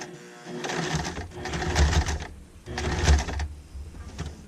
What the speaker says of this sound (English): I am going to lift that foot and just turn it a little and sew